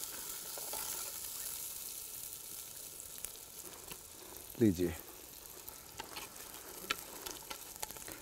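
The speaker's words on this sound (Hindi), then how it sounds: "तो सबसे पहले खड़ा मसाला डाला, उसके बाद प्याज। हाँ, फिर उसको प्याज को अच्छे से भूनना है।" Onions fry with whole spices in a pan at a tribal home kitchen, giving a faint continuous sizzle with a brief louder stirring scrape midway and occasional clicks, while a person speaks briefly.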